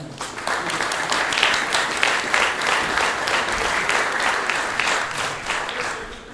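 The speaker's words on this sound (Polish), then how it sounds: "Proszę o brawa i zapraszamy na scenę." Sustained applause fills a hall at a Polish medical-software users' conference award ceremony as a prize presenter is invited to the stage, dense and even clapping from a large audience throughout.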